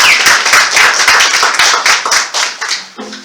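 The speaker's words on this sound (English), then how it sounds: "big round of applause real quick." Applause for students after a guitar performance at a music school, loud, dense hand clapping from a small close audience that stops abruptly near the end.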